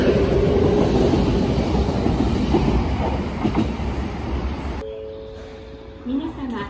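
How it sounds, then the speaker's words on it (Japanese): A Nankai Railway semi-express train rushes past at close range, a loud rumbling roar with rhythmic wheel clatter that cuts off abruptly, leaving a quieter tail with faint tones and clunks. "準急が通過していきますね。"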